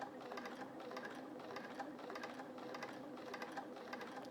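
Domestic sewing machine at its highest speed, stitching back over a row of quilting, a steady fast whirring hum with a regular needle clatter, close and continuous throughout.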